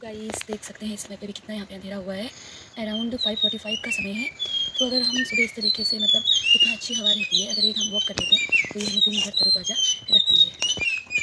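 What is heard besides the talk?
birds chirping in the morning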